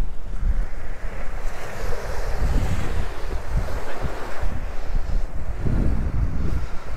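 Sea waves wash onto the Taganrog Bay shore at Yeysk under strong westerly wind, with continuous surf rumble and heavy wind buffeting the microphone throughout.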